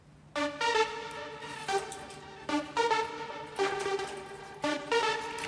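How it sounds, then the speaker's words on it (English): A Nexus synth arpeggiator in an FL Studio amapiano track plays a bright, plucky repeating note pattern in quick, even rhythm, cycling in groups of rising notes over a quiet held low tone, with no voices. "It's an arpeggiator, an arpeggio."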